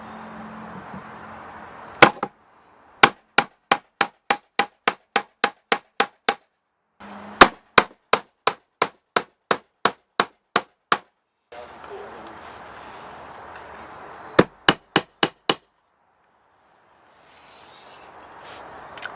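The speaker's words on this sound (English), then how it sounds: "we have a nail, we have hammer. Nail goes in there. Let's see if we can just bash it in." Rapid, evenly spaced hammer strikes driving a nail into wood in three bursts, sharp and close, separated by short pauses.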